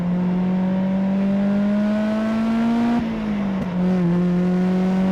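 A Mazda NC Miata engine drones steadily at high revs from inside the car on a track day, pitch slowly climbing, then briefly dipping around a gear change before settling back to a loud sustained tone.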